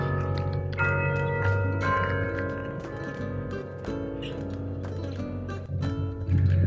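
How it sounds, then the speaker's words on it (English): The bells of the Cathedral of St. Francis in Santa Fe ring out in overlapping strikes at 6:30, their rich tones layering and sustaining, heard from a distance with faint outdoor background and no speech. "That is your 6:30 bell from the Cathedral of St. Francis here in Santa Fe."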